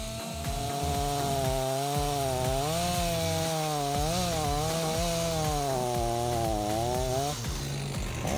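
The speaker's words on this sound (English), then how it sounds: "the chainsaw takes down cedar trees with ease." A chainsaw with a 24-inch blade and 50cc engine saws through cedar trees, its engine whine rising and wavering in pitch as it bites into the wood, loud and close for the whole stretch.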